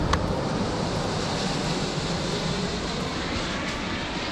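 An airplane passes overhead near an airport while people are out on a boat, a steady broadband engine roar holding at even loudness throughout without talk.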